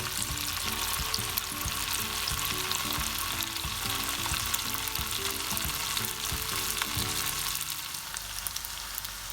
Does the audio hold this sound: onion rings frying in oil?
yes